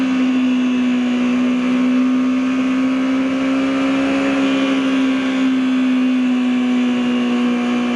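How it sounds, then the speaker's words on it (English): A motorcycle engine wound up high after a downshift into first gear, a loud sustained steady whine close by, with wind rush over the top and no pauses. "Wow, I just downshifted to first because I'm a moron."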